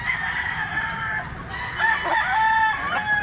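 A blue-legged rooster crows nearby, a loud drawn-out call that rises and falls, with faint clucking and outdoor background noise.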